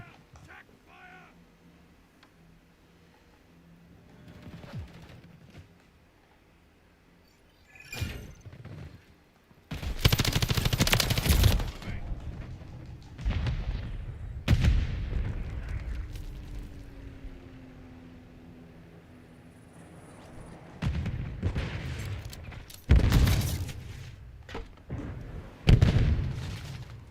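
Kastov LSW light machine gun fire in Call of Duty Modern Warfare III, several loud bursts of rapid automatic shots separated by quieter gaps, with scattered softer background battle sounds.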